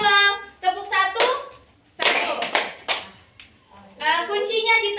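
A fifth-grade class plays a clapping ice-breaker game, answering the teacher's call with bursts of children's hand claps between stretches of her speaking voice.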